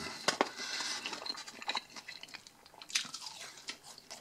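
Someone eating crunchy Twister Fries from a Burger Now meal, close crunching and chewing in irregular bites, with quiet mouth sounds between them and no talking.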